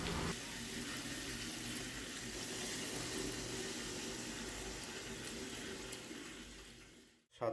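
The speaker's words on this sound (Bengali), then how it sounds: "এবার এইদিকে যে গরম জলটা বসিয়েছি সেটা এবার গরম জলটা এখন দিয়ে দেবো।" Hot water poured into a pot of katla fish curry with tomato, potato and drumstick, a steady rushing pour that holds for about seven seconds before cutting off abruptly.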